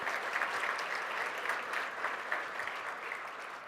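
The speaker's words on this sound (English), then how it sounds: "So I just want to give them a round of applause for everything they've done." Steady audience applause fills a symposium hall, an even, dense patter of many hands sustained for several seconds without voices over it.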